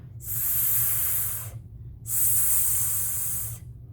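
A red spotted snake hissing in the grass, in a children's phonics story: two long, loud, breathy hisses, each about a second and a half, separated by a short pause.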